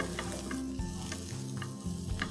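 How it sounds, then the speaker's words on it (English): Flat beans (valor papdi) stir-fry over high flame with salt, a dense continuous sizzle broken by clattering stirs and scrapes of a utensil in the pan, close and fairly loud, with no voices. "this almost kind of gets stir fried for a minute with the addition of salt as required"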